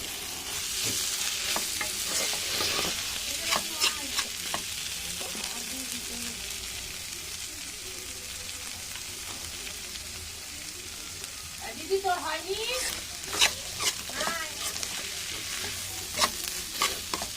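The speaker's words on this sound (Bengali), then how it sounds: "আমি তো ঘুটে ঘুটে দেবো এবার।" Pui greens are stirred and fried dry in a pan, giving a soft continuous sizzle with repeated scraping strokes of a utensil that come in bursts, close and fairly quiet.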